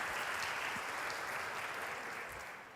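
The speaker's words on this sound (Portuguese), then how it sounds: "vamos dar uma salva de palmas a esse Pai" Congregation applauding during a Sunday church service, a broad, even roar of many hands clapping that slowly fades toward the end.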